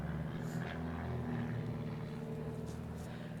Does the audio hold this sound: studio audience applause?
no